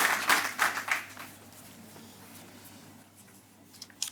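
Audience clapping at a Hindi commemorative event honoring a poet, with a burst of applause at the start that fades into a quiet room hum, then a few isolated claps near the end.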